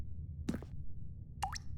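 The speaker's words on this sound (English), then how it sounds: "I heard water drip." Two separate water drips in The Stanley Parable: Ultra Deluxe video game, each a short wet plop, the second brighter with a quick rising ring, set against quiet ambient hum.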